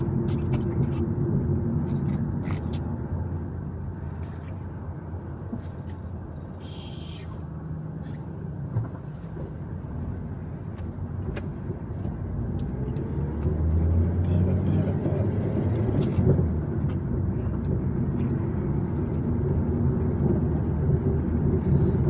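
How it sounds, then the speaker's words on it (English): Steady low rumble of a car's road and engine noise from inside the cabin, continuous throughout with slight swells, and no clear talking. "See how much road noise, how much my car noise comes through."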